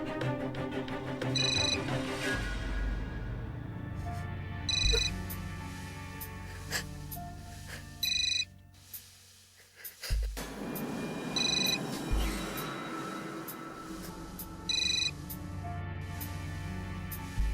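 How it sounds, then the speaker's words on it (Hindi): A telephone rings in repeated bursts against an interior backdrop, the rings spaced a few seconds apart over a low background hum. "तुम्हारी दोस्त सुचित्रा का फोन होगा।"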